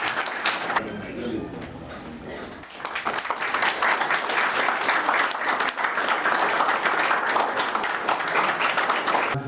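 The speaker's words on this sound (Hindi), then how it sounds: "मैं सभी खिलाड़ियों से अनुरोध करूंगी जोरदार तालियों से एक बार" An audience applauds to welcome a guest at a felicitation ceremony for 38th National Games participants: scattered claps build after a couple of seconds into sustained, dense, loud applause, with voices around it.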